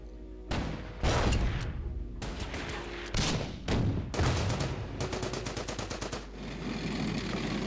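A WW2 video game tank attacks an infantry unit: loud bursts of automatic gunfire and heavy booming shots come in several waves. The final stretch is a rapid rattling volley.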